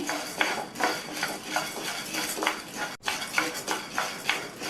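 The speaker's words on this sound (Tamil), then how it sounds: "அதுல 1 கப் பொட்டுக்கடலையை சேர்த்து லைட்டா சூடு ஏறுற வரையும் 2 நிமிஷத்துக்கு மட்டும் வறுத்தா போதும்." Roasted gram is dry-roasted in a pan on a stove, with a spatula scraping and clinking against the metal in a quick, regular rhythm close to the microphone.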